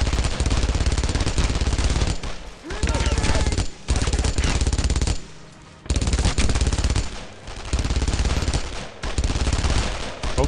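Sustained machine-gun fire from the World War II shooter Brothers in Arms: loud, dense automatic bursts fill the clip, broken by a few brief pauses.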